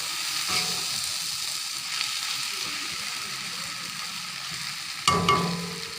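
Drumstick leaves and onion frying dry in a pan: a steady close sizzle with occasional scraping stirs, the loudest of them near the end.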